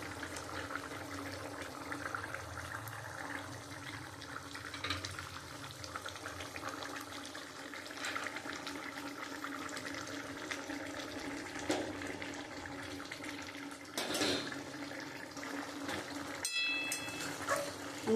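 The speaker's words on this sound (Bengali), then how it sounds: "দেখো বন্ধুরা, ঝোলটা ফুটে গেছে। এবার আমি মাছগুলো দিয়ে দেবো।" Fish curry gravy bubbles at a steady boil in a pan, with a splash as fish pieces are dropped in near the end; no talk.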